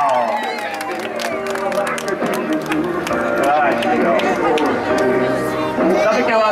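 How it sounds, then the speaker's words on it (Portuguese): Guests at a family birthday party in São Paulo clap and cheer over lively music, with a host talking loudly over the crowd throughout. "Pode bater palmas aí, pessoal!"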